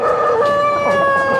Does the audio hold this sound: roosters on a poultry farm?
yes